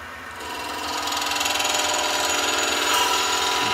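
Wood lathe spinning while a gouge cuts coves in a turning blank, a steady rough scraping whir that grows louder and holds, with a rhythmic chatter running through it.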